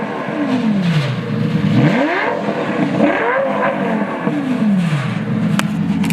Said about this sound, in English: those exhaust tips amplify the sound so much more, and it just carries so much further.